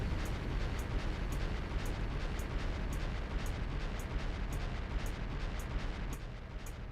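Explosion in the video game Trails of Cold Steel: a sustained, loud rumbling blast with no break, holding steady throughout, with a faint regular ticking on top.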